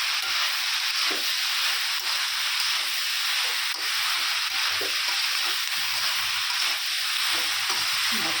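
Meat and cauliflower frying in a pan, seasoned with salt, sugar and pepper, give a steady bright sizzle and hiss that carries on without a break, close and fairly loud, with a few soft clinks from stirring underneath.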